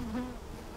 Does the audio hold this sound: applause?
no